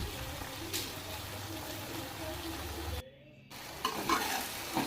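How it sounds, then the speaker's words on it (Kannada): Spices, tomato, chili powder and coriander powder fry and get stirred in a pan for a beans and potato sambar, giving a steady close sizzle with scraping stirs that briefly drops out, then resumes. "ಹಂಗೆ ನೀಟಾಗಿ ಫ್ರೈ ಮಾಡ್ಕೊಳ್ಳಿ"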